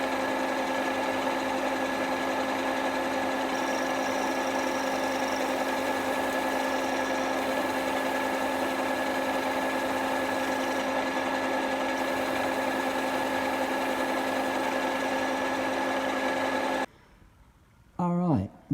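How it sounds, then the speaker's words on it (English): A power drill whines steadily and evenly for a long stretch, close up, drilling into a seized bolt on BMW duolever motorcycle suspension, then stops and a person speaks. "then we'll start drilling carefully and see what happens."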